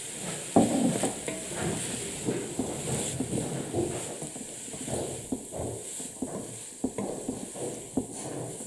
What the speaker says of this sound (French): Et là, on va laisser mijoter.